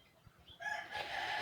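Chickens cluck softly at first, then a rooster breaks into a loud, sustained crow close by that carries to the end, with no voices.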